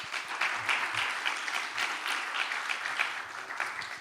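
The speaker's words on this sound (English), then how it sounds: "Ladies and gentlemen, please give them a warm round of applause." An audience at the Seoul Olympic Legacy Forum 2024 claps steadily, a dense patter of applause that continues evenly throughout.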